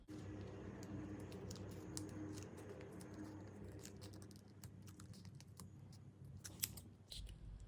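Scissors cut into a cardboard toilet paper roll for a craft, with a run of small crisp snips and clicks close to the microphone, most of them late in the clip, above a low background hum.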